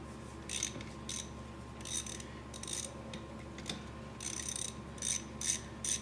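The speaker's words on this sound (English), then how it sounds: "After we get these two bolts out, we'll kind of compress the caliper real gently." A ratchet wrench works the brake caliper bolts on a Honda Civic during front lower ball joint replacement, its rapid clicking bursts coming close and fairly quiet in short spurts over a low steady hum.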